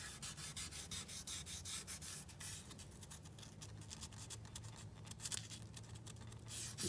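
Sandpaper rubbing over a painted 22-inch wheel, a steady scratchy back-and-forth scrubbing that runs close and continuous throughout without any voices.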